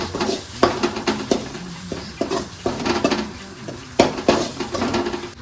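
Coriander powder masala roasts in a pan for a fish curry, with repeated spoon scrapes and knocks against the metal over a soft sizzle in an uneven stirring rhythm.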